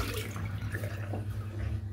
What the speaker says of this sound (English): So what I do is I wet my hands